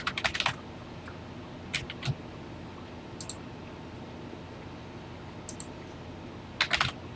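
A TI-99/4A home computer keyboard is typed on in short bursts of crisp, close key clicks separated by pauses, with no talking.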